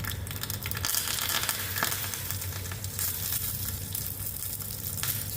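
Cumin seeds and curry leaves sizzling steadily in hot oil while tempering Indian amla rasam, a continuous close crackling fry with no talk.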